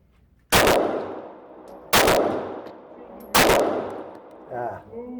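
Three loud, sharp Glock 19X pistol shots ring out at an outdoor range, spaced about 1.5 seconds apart, each leaving a short echoing decay, followed by a faint clink.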